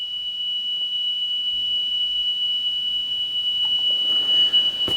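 Steady 3 kHz test tone from an Amstrad 7070 cassette deck, a continuous high pure whistle with a gently wavering level over faint tape hiss, plus a few soft clicks near the end.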